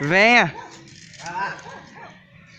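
A dog gives a loud, rising-and-falling whine up close, followed by softer whimpers and small yips while a man calls to it in Portuguese.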